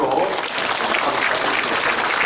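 Warm applause fills a church hall at a retirement and ordination service, a dense continuous wash of clapping from the congregation.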